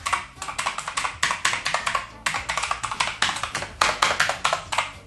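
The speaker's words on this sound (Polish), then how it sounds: "Brzmi jak klawiatura mechaniczna," Close, brisk typing on a Media-Tech keyboard with a mechanical-sounding clack, delivered in quick bursts of keystrokes separated by short pauses.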